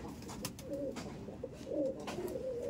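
Madrasi pigeon cooing while held in the hand, soft repeated low coos in a steady rhythm close by, with faint handling rustle and no talk.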